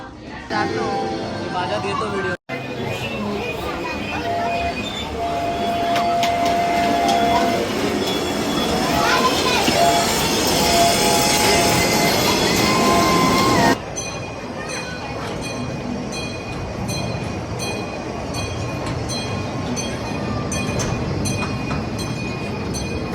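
An amusement park train ride rumbles and clatters continuously along the track, with occasional wheel squeal and a sudden shift in the noise partway through.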